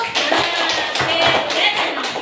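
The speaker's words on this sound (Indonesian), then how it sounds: "Tepuk tangan untuk kita dulu." A sixth-grade class claps together in a classroom, producing a quick rhythmic pattern of hand claps and taps with voices mixed in.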